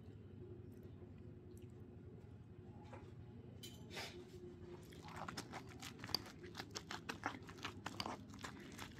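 Someone chews a mouthful of mashed potatoes and meatballs while tasting them. After a quiet start, soft, close, rhythmic mouth crunches and squishes repeat steadily.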